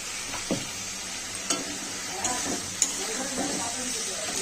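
Chili and turmeric powder fry and sizzle in a pan for a stingray fish curry, with a steady bright hiss and a few spoon-scraping stirs.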